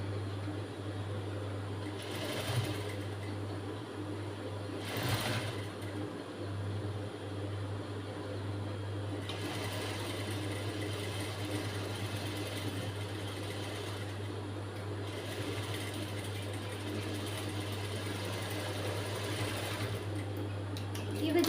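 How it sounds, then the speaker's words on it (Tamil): A sewing machine stitching a blouse sleeve hums steadily at a low, even pitch for the whole stretch, with a few brief bursts of faster running layered over the drone. "தையல்."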